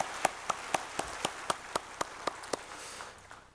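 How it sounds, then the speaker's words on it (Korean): A church congregation claps in unison, about ten evenly spaced, crisp claps in a steady rhythm that fade out at the end. "하나님께 감사와 영광의 박수를 드립시다."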